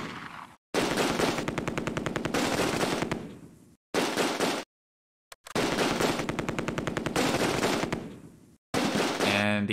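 Long bursts of machine gun fire from the video game Close Combat: A Bridge Too Far, loud and close, in several sustained volleys broken by brief silences, with a final rattling burst at the end.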